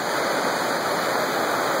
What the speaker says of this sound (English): There's a little waterfall over there.